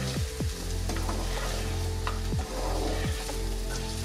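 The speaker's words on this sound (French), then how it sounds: "Je le fais revenir un petit peu comme ça, 1 minute, dans le beurre aux échalotes et à l'ail" Lupin beans sautéing in butter with shallots and garlic, a steady close sizzle with several scraping strokes of a spoon pushing them around the pan.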